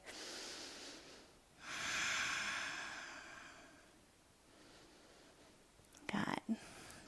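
Slow, deep breaths during a yoga flow, a long airy inhale followed by a softer exhale, close and quiet, ending in a brief sharper snort-like breath.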